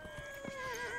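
A horse in the video game Dragon Age Inquisition whinnies with a wavering tonal neigh over soft thudding hoof clops, close and moderately loud in a short burst.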